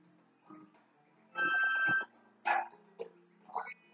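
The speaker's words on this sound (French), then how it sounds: "Allez, viens, mon chien." Cartoonish dog barks from the Yoshi's Woolly World video game: several short, bright, separate yelps spread across a few seconds, with a longer sustained burst early on, all fairly quiet and heard alone.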